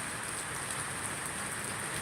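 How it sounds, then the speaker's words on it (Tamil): Heavy monsoon rain pours down at night, a steady dense hiss of drops on surfaces that stays even and loud throughout with no pauses. "காற்று இல்லை மழை தான் அதிகமாக வருகிறது"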